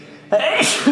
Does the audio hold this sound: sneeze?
yes